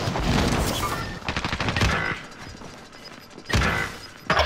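Video game gunfire rattles through a firefight, with fast clusters of sharp shots and mechanical clatter, then a lull and a few louder isolated cracks that sound like sniper fire near the end.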